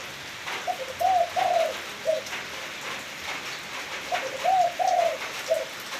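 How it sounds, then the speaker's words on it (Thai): A pigeon or dove coos in soft repeated phrases, two bursts of several notes each, fairly near, over a light background of rain in a rural cattle pasture. "อยู่กับเสียงนกนะพี่น้องเด้อ"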